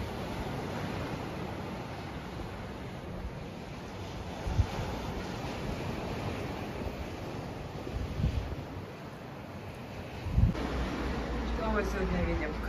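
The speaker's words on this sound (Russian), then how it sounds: "Сегодня волны." Sea waves wash onto a beach at Evpatoria on a summer morning, a steady, fairly loud rushing surf mixed with wind buffeting the microphone, with a few louder thumps and a voice speaking at points.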